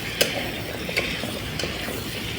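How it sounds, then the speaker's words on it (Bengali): Chicken browning in a pan with turmeric and chili as a utensil stirs it, giving a steady faint sizzle broken by a few sharp scrapes and clicks, with no one speaking. "আমি মাংসটা ভালো করে কষে নিলাম"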